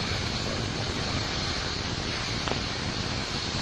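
Broadband roar of an RD-180 rocket engine climbing away during the LRO-LCROSS launch, steady and distant-sounding, with wind-like rushing throughout and no voices.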